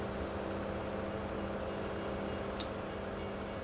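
Train running in Farming Simulator 25, a steady, loud rumbling drone of rail movement with a constant hum and faint clatter, no talk.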